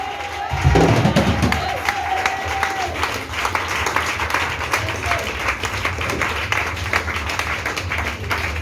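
A congregation applauds and cheers Jesus Christ during a church service. Dense clapping and crowd noise run steadily throughout, with voices mixed in.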